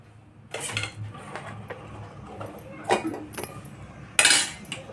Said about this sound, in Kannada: ಒಗ್ಗರಣೆ ಕೊಡ್ತೀನಿ